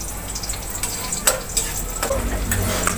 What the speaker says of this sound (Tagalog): Ito, nag-iisa na ako ng sibuyas at bawang para sa aking adobong pusit.